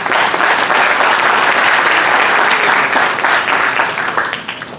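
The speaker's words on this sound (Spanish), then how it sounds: "Lo recibimos con fuerte aplauso." Loud, dense applause fills a university law lecture hall in welcome for an invited speaker from Argentina, steady throughout and tapering slightly at the end.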